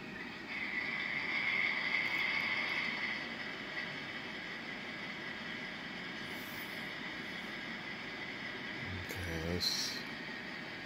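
A steady mechanical drone and motor whine from a ScaleTrains GTEL 8500 model turbine locomotive running in hostler mode runs continuously, with a brief higher chirp near the end.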